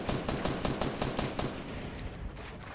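Rapid bursts of gunfire in the video game Fortnite, sharp shots cracking in quick clusters, loud and close, thinning toward the end.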